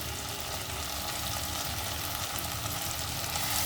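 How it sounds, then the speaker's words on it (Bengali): Shrimp masala with poppy seed paste and chili paste stir-frying in a pan, a dense continuous sizzle heard up close, with faint stirring scrapes underneath. "এবার ভালো করে এগুলোকেও এর সাথে মিশিয়ে কষিয়ে নেব।"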